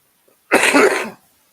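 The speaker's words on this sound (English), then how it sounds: "I've got a fucking cough still" A single harsh cough, close and loud, bursting out after a moment of quiet and trailing off within about a second.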